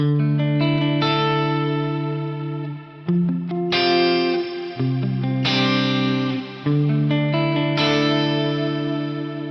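Sustained, heavily effected electric guitar chords through an FM9 with pedals ring out with a lush reverb wash, a few chord changes with short dips before swelling back up.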